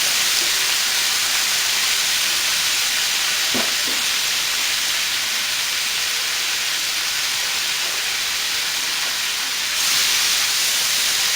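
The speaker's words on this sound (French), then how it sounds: "Ensuite je vais faire revenir ma garniture aromatique." Aromatic vegetable garnish sautéing in a pot for a beef daube with cep mushrooms, giving a steady, even sizzle and hiss throughout with one brief utensil knock partway.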